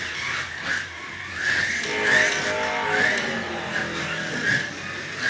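Scalextric Formula 1 slot cars racing around a plastic track, electric motors whining up and down as the cars pass repeatedly, with a shrill high pitch and no talk.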